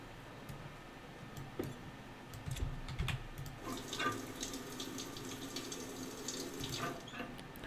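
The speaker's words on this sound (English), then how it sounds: "Now we will take a shower." Shower water running in the survival game Stationeers: a continuous hiss of flowing water with scattered light clicks and ticks layered over it, fairly quiet and with no talking.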